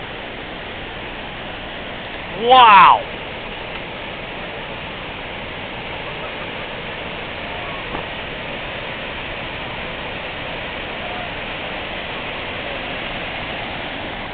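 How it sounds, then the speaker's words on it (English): Large waterfall in Norway heard from a stopped train, a steady broadband roaring rush of falling water throughout, fairly even and moderately loud, with a brief exclaimed voice early on. "is that the wimpiest waterfall you've ever seen?"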